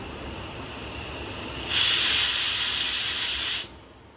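A pressure cooker whistle on a home kitchen stove letting off steam while meat cooks, a loud bright hiss that swells in and holds steady for about two seconds before cutting off abruptly.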